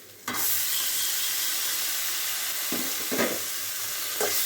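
Tomato dropped into a pan of golden onions sets off a loud, sudden hiss that settles into a steady sizzle, with a few stirring scrapes and taps, no voices.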